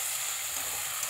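A brief, even hiss of ground masala frying with pasta in a pan, a steady close sizzle with no breaks.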